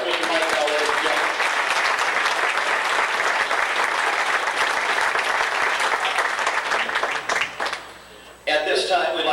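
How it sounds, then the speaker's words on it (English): An audience at a 1992 racing banquet of champions applauds in a loud, sustained wash of clapping that holds steady, briefly dips near the end, then a voice begins speaking. "Give a nice round of applause."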